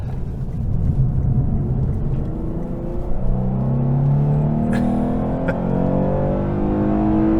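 A 2023 Lexus RC 350 F Sport in Sport Plus mode, its engine rumbling loud and close with a steady drone that swells as it revs up, plus a couple of faint clicks near the end, no talking.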